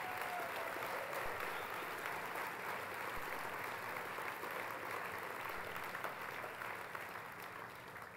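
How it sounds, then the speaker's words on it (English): Guests at a fall gala dinner for a pride advocacy group applaud in a large room, a soft, even wash of clapping that holds steady the whole time without voices on top. "and give them an applause tonight."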